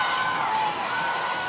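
High school football crowd at Lakeshore versus Portage Central cheering and roaring in a steady, dense wash of voices, with a commentator's voice faintly under the noise.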